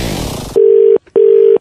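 A telephone line tone sounds close and clear after a brief burst of noise, two long steady beeps separated by a short gap, as a prank call is placed.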